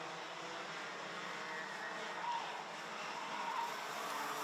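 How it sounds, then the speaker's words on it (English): Rotax junior karts lap a race circuit through a late turn on the final lap, their engines a steady, distant high-pitched drone with slight swells, no voices over it. "As Vinnie Phillips making his way through into turn 9 for the last time of this race."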